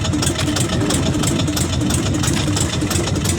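A fishing boat's engine idles at sea with a close, loud, steady rumbling chug that stays constant and unbroken throughout.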